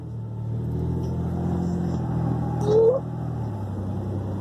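A truck speeds along at midnight, its engine and road rumble loud, steady and close, with a brief rising whine near the end.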